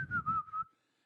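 A person imitates a tuneless, random whistle like a janitor's idle whistling, a single wavering pitch in a few short warbling bursts that trail off, close and alone with no talk.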